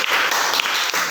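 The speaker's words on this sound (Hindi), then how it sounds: "बैठिए, तालियां" Students in a classroom clap briefly, a short burst of many hands applauding together, fairly close and uniform.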